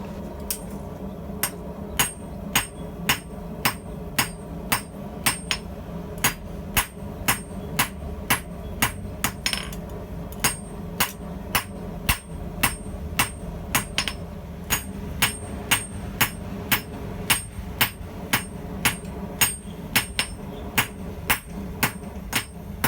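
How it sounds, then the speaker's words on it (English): Steady, ringing blows of a 4-pound hammer hand-forging hot steel strike again and again in a regular rhythm, close by and fairly loud, with a low hum running underneath. "I move up to this 4-pound hammer to maybe move steel a little bit quicker."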